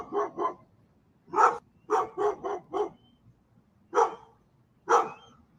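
A dog in a movie barks in sharp bursts, first a quick pair, then a rapid run of four, then two more isolated barks, loud and close against a quiet background.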